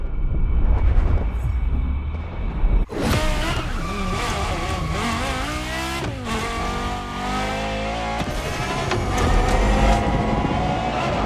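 A car in The Crew Motorfest is driven hard, its engine revving loudly through gear changes with rising and falling pitch and occasional tire squeal, close and constant after a brief quieter start.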